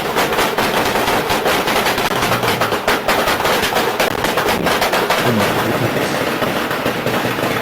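Sustained, dense automatic gunfire during a shooting incident in which 268 shots were fired within ten seconds, a loud, continuous rattle of rapid shots with no pauses, heard close and harsh throughout.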